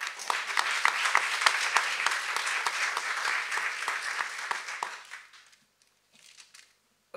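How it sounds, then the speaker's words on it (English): An audience at a panel discussion gives a speaker a round of applause, a full burst of many hands clapping for about five seconds before fading out, with a few scattered claps afterward. "A big round of applause for Joseph."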